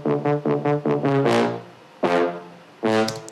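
Synth brass processed with distortion and EQ plugins gives gritty, bright stabs: a quick run of short repeated notes followed by two longer swelling blasts, with no other sound.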